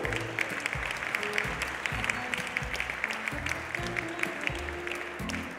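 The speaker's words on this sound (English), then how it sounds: "would you be so kind and give a big round of applause for these couples?" An audience applauds dance couples in a ballroom at a world ten dance championship in Bratislava, steady clapping over background music with a rhythmic low beat, moderately loud throughout.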